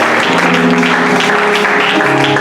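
An audience at a French-language sermon claps in steady, dense applause, loud and close throughout, with no break.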